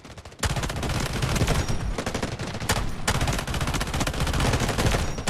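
Sustained automatic fire from an SG552 rifle in the shooter game Delta Force, loud and continuous bursts rattling almost without pause, with one short break near the start and another midway.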